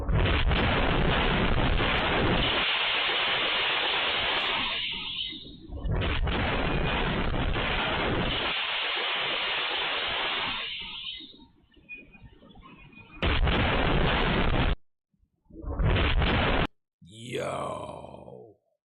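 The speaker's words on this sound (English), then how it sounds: "Ballistic missile impact. This was in Tel Aviv." Ballistic missile impacts in Tel Aviv captured on news footage: loud sustained blasts and roaring rumble, then a lull and a few more short heavy bursts near the end.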